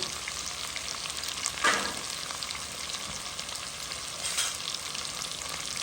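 Swordfish steak frying in a pan with onions, a steady close sizzle with two brief louder scraping or stirring moments, no voices.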